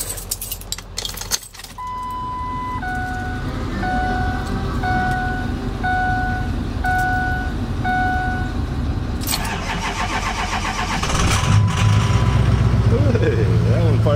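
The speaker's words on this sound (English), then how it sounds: "Here's the old 96 Ford, which fired right up." An old 1996 Ford pickup with a 7.3 engine cranks and fires, then settles into a steady idle. Keys jangle briefly at the start, and a faint whine rises near the end.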